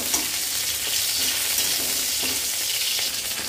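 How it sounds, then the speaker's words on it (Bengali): Green chillies and crushed garlic fry in hot oil, giving a steady, even sizzle close by throughout. No one speaks. "দেখো রসুনটা লাল লাল করে ভাজা হয়ে গেছে"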